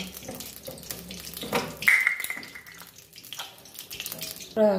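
Water running and splashing as boiled vegetables are strained, a brief pouring burst midway over kitchen background sounds, with a faint voice nearby.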